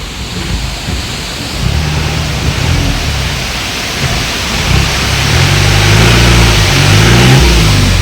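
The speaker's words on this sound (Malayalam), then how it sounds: "നമ്മളിത് ഒരു തോട് കടന്നാണ് ഗൈസ് പോകുന്നത്" An off-road vehicle on a road trip to Kudiyanmala, Kerala, churns through a stream, its engine rumbling and straining under a loud, continuous rush of splashing water with no voices.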